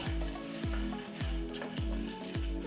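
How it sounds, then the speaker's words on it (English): Coriander seeds, chana dal, raw rice and whole peppercorns roast in a pan for a South Indian garlic pepper curry, giving a steady dry sizzle with regular stirring scrapes roughly every half second, close and continuous, no voices. "First roast these 4 ingredients."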